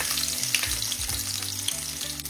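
Olive oil and garlic sizzle steadily in a hot pan, a dense continuous fry with low rumbling tones underneath, close and fairly loud throughout with no voices.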